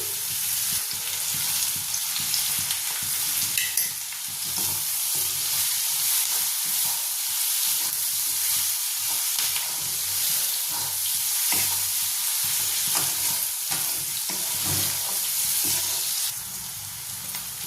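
Onions frying in a pan until light brown, with salt added, a steady dense sizzle running throughout with occasional stirring scrapes, loud and close with no talk.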